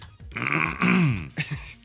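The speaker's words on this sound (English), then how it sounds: "Let me clear my throat." A man on a radio show clears his throat in a brief, voiced, rasping burst lasting under two seconds, with a short grunt at the end.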